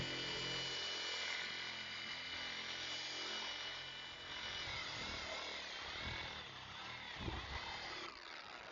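A machine polisher spins polish onto car paint with a loud, close, continuous high whine that dips slightly and changes tone as the polisher moves over the panel.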